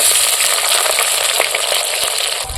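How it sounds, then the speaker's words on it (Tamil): Mustard seeds, garlic, chillies and shallots fry in hot oil, giving a loud, steady close-up sizzle and crackle with a few faint clinks, and no one speaks. "நல்லா வெங்காயத்தை வணக்கிங்க"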